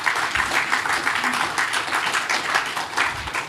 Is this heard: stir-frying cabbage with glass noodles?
no